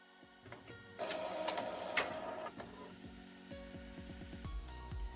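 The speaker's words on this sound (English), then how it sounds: "Now I'll print." A printer runs a sublimation transfer print, with a motorized whir and mechanical clicks starting after a second and continuing steadily, moderately close, with paper-feed rattles near the end.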